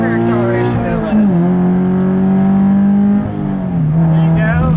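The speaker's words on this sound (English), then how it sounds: "I'll leave you guys with a nice little acceleration here. Mid-corner acceleration, no less." A Subaru BRZ accelerates mid-corner, its engine drone climbing in pitch, dipping briefly at a shift, then rising again, loud and close-up from inside the car.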